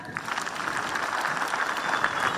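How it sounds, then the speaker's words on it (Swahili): Audience at a Machakos youth service pass-out ceremony applauding the parents, a dense, steady patter of many hands clapping at moderate distance, continuous without a break. "So clap for your parents"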